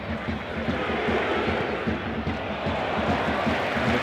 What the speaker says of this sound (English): look at the reaction it's prompted from the stands